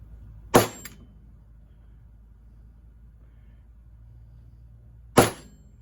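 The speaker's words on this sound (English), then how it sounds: "So, use a plastic hammer." Two sharp, loud knocks several seconds apart from a plastic hammer tapping spacers into place while fitting rubber paddles on a 21-inch Toro snow blower, with a low steady hum between them and no talking.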